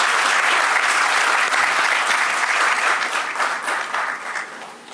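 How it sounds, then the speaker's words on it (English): Steady applause fills an auditorium at a closing session, a dense, even wash of many hands clapping that holds strong and then begins to thin and fade toward the end. "May we have a round of applause"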